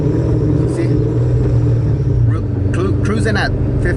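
A supercharged Ford Mustang cruises slowly at about 1500 rpm, its engine a steady, close, low rumbling drone throughout, with brief higher-pitched sounds over it near the end.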